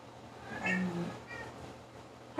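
A cat gives a soft drawn-out meow, then a fainter second call and the start of another, close by over a quiet room hum.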